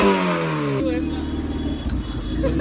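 A KCPD GT650 motorcycle engine revs hard and loud up close, the pitch climbing then dropping into a rough, throbbing idle with mechanical clatter.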